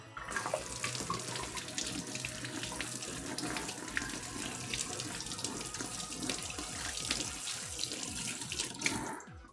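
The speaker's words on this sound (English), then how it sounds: "Let's give these a nice, quick little wash." Chili peppers being rinsed under a running kitchen tap make a steady rush of water splashing into a sink, continuous and close, with small shifts as the peppers are moved about, ending abruptly.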